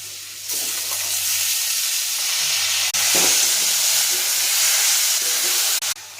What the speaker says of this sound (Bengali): এখন মশলাটা ভাজা হয়ে গেছে,